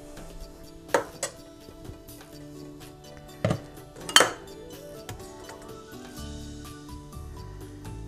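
A metal ladle scoops hot soup into a thickening mixture in a glass bowl while a Hungarian winter soup is being made, giving a few sharp clinks and knocks over a soft kitchen background, with no talking.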